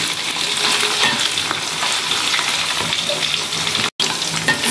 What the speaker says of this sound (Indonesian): Kita goreng sebentar aja, yang penting matangnya sempurna ya